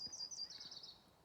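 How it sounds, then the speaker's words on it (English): A bird calls in a forest, a faint, high, thin whistling trill repeated a few times at a distance. "They're a bird."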